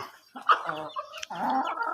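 A hen clucks in short, uneven bursts close by, a few soft throaty calls followed by a longer, louder run of clucking.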